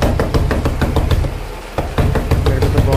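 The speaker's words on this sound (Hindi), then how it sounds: "ये कौन मेरा दरवाज़ा खटखट करवा रहा है।" Someone bangs hard on a door at midnight: a loud, close series of rapid knocks, a brief pause, then another burst of pounding.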